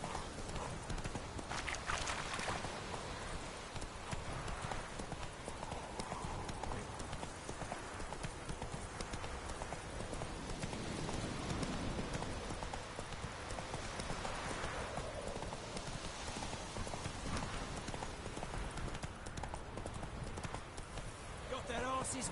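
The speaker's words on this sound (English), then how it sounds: "horses racing." Rapid hoofbeats of galloping horses drum continuously, with voices calling out over the steady thudding rhythm.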